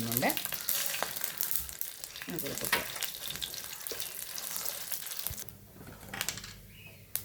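Mustard seeds, urad dal and green chilli crackle and sizzle in hot oil, a dense, close spattering with scattered pops and stirring that thins toward the end.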